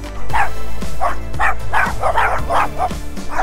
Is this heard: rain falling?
no